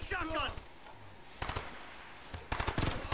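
Gunfire in the video game Ghost Recon: Future Soldier, heard as sharp bursts of shots in separate clusters over faint background, with a voice shouting briefly at the start.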